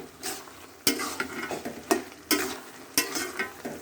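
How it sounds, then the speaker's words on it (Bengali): Dried fish curry is stirred in a pan, with sharp spatula scrapes and knocks at irregular intervals over a soft background sizzle, close up and without speech. "সুন্দর মতো আবারও কষিয়ে নেব এখন এই তরকারির সঙ্গে মাছটা একদম মিশাই ফেলতে হবে"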